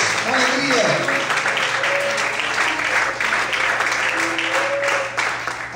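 A church congregation breaks into sustained applause, a dense wash of clapping lasting several seconds with voices and cheers mixed in.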